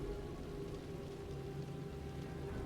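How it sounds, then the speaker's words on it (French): Rain falls in a video game as a soft, steady hiss with no breaks, heard alone and fairly faint. "Là, normalement, vous avez le magnifique son de la pluie."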